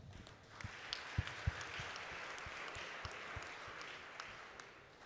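Faint, distant applause from an audience at an honorary doctorate ceremony, a soft steady wash of clapping with a few sharper close claps near the start.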